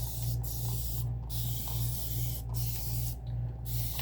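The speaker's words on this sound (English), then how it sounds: "I'm gonna have to spray this with water" Several short bursts of a spray bottle misting water onto paper, uneven bursts over a steady low hum in the background.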